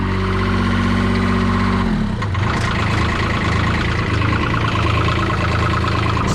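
A New Holland LS125 skid steer's small diesel engine idles steadily and a little rough after its revs drop off in the first seconds, a close, continuous low rumble with no talk.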